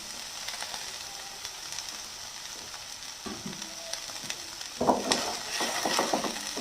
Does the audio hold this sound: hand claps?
no